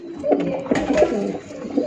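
Punjabi Malwai and Madrasi pigeons cooing close by in soft, rolling, repeated low calls, with faint background noise.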